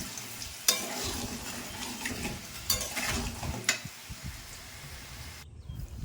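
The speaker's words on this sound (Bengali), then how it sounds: "আলুতে দেবো অল্প পরিমাণ হলুদ গুঁড়ো অল্প পরিমাণ নুন দিয়ে আলুটা লাল করে ভেজে নেব" Potato pieces frying in oil with turmeric and salt for a biryani, giving a continuous sizzle broken by a few louder stirring scrapes against the pan, heard up close without any talking.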